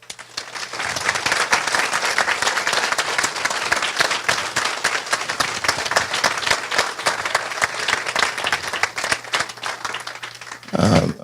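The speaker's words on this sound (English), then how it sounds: "give a warm round of applause for her efforts" An audience at a community unity breakfast gives warm applause: steady, dense clapping from many people, building after a quiet start and then holding for about ten seconds.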